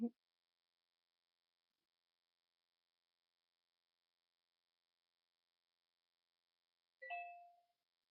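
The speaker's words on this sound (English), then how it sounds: "That was my phone." A phone notification chime rings out once near the end, a short clear tonal ding after several seconds of near silence.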